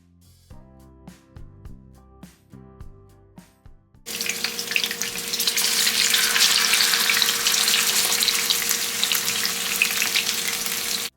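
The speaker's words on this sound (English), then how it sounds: "adding the fish into the oil now" Fish for Jamaican escovitch dropped into hot oil in a pan, bursting into a loud, steady, dense frying sizzle that continues unbroken after a few seconds of quieter kitchen sounds, with no talking.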